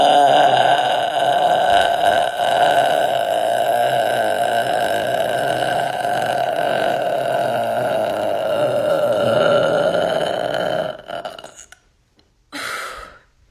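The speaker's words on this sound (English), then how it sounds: "the longest burp I can possibly do right now" A young woman lets out one long, loud, continuous burp made by swallowing air rather than soda, holding steady for about eleven seconds before a pause and a short final gulp-like burst.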